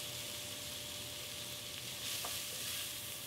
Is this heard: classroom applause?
no